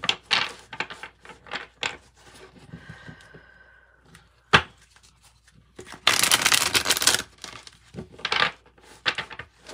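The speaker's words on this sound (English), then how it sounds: "One more little shuffle and we'll cut." Tarot cards shuffled by hand at close range, with bursts of riffling and card slaps, a sharp tap, and one longer continuous riffle in the middle, separated by quiet gaps.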